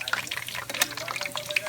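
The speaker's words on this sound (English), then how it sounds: "You're going to want to really keep an eye on these here where you're frying them." Egg rolls fry in hot oil, giving a steady crackling sizzle with scattered pops and faint clinks, close to the microphone, while a person talks.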